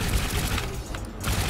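Four cannons on a plane in the Trailmakers video game fire in a rapid, dense volley: continuous loud rattling bursts over a rumbling engine drone, with no talking.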